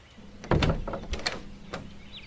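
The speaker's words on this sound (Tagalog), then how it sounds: "Maya-maya pa, bumukas na naman ang pintuan." A door swings open as a sound effect in a Filipino horror audio story, giving a short creak and knock of mechanism lasting about a second, fairly close and alone with no talk over it.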